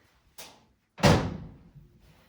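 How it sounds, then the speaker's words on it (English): A standard household clothes dryer door is pulled open, giving a light click and then a louder, hollow thunk that fades out. The sound is close and clear, with no talk. "The door opens like your standard dryer."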